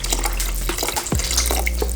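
Broth poured into a pot of tomato basil soup gives a steady watery splashing and trickling, close and continuous for about two seconds, with no talking.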